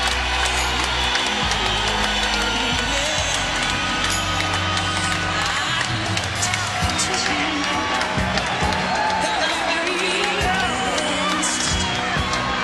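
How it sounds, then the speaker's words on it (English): Sustained roaring ovation from a packed baseball stadium crowd saluting Cal Ripken at an Angels versus Orioles game, with dense cheering, whoops and clapping that stay loud and steady throughout. "the ovation has now lasted"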